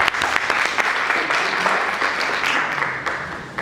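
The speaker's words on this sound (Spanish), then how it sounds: "Un aplauso, por favor." Audience applause fills a book launch presentation at a literary venue, steady dense clapping from a room of listeners that holds evenly for several seconds before tapering slightly at the end.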